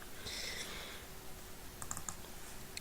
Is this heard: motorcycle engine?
no